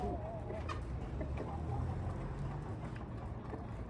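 Chickens cluck steadily in a coop with a sick hen among them, over a dense, noisy background, with occasional higher calls cutting through; no one speaks.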